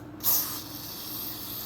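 A single short burst of carpet cleaner sprayed from a can, close and sharp, trailing off into a low hiss and quiet room noise.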